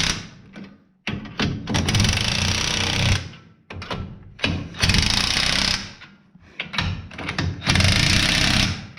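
A new impact wrench works on the rear axle of a 2006 Ram truck in loud, close bursts of rapid hammering, three long runs of two to three seconds each with short pauses between.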